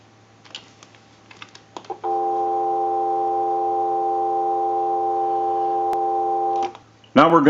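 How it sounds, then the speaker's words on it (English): A steady dial tone on a Western Electric candlestick telephone hums continuously for several seconds after a few soft clicks and taps, then cuts off abruptly. "we'll give you some dial tone."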